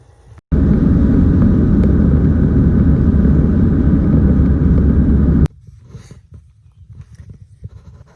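A Jeep crawling up a muddy dirt road toward an old mine site gives a loud, steady engine rumble with wind for about five seconds, then cuts off abruptly to faint background noise.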